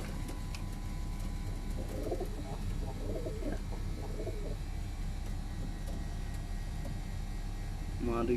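Pigeons coo softly in a low, throaty series in the middle of the clip, faint under a steady background hum, with someone speaking over the birds.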